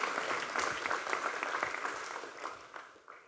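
A crowd at a State of the City address in Houston breaks into brisk applause that stays full for a couple of seconds, then thins and tapers off toward the end.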